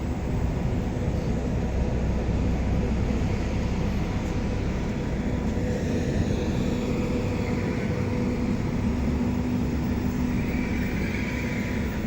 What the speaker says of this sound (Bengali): এই যে আরেকটি ট্রেন চলে এসেছে এখানে।